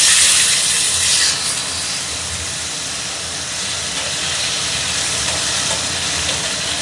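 Tomatoes, dried chillies and garlic hit hot white oil in a pan and set off a loud, steady sizzle with a bright crackling hiss that eases slightly after the first second and keeps going without a break.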